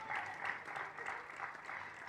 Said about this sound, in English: You could clap for that, yes.